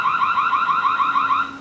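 A Botslab Indoor Cam 2 sounds its intruder alarm: a loud, rapidly warbling electronic siren that pulses evenly and alone, close to the device, before cutting off.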